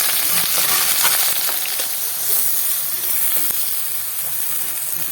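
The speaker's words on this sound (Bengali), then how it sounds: "হালকা করে একটু ভেজে নেব আমি খুব লাল করে ভাজবো না" Eggplant pieces with turmeric frying lightly in oil, a close, steady hiss and crackle with occasional stirring scrapes, no voices.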